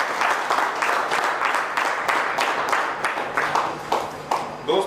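An audience at an indoor success meet claps together, a sustained patter of many hands with some louder individual claps standing out near the end.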